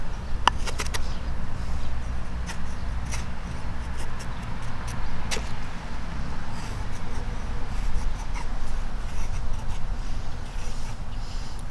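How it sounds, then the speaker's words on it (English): A knife scrapes and slices bark off a birch stick, peeling fine shavings in a steady, continuous rasp, close and fairly loud, with a few sharper clicks of the blade near the start. "I'm debarking this birch rather easily with it"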